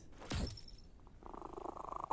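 A cat purrs in the Tencent mobile survival game Undawn. The soft, low rumbling purr builds through the second half, after a brief louder burst near the start. No one speaks.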